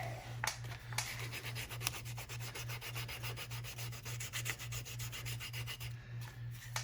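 Sandpaper rubs on a wooden marking gauge in quick back-and-forth strokes, a faint, rhythmic, dry rasp that repeats steadily at close range.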